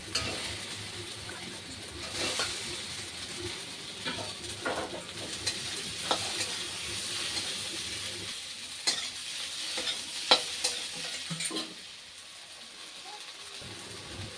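Potato curry sizzling in a hot pan and being stirred, with scraping strokes and steady frying hiss close by and voices talking faintly in the background.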